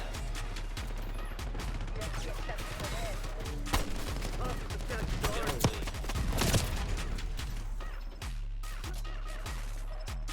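Rapid TR2 rifle gunfire in the Black Ops 6 shooter game crackles in quick bursts over a busy game mix of other effects and distant shots, with a voice talking over the action.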